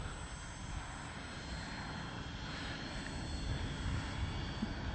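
An Arrows RC Trekker model airplane, modified into a larger flyer, drones overhead with a steady propeller engine hum that holds level and unbroken throughout, mixed with wind.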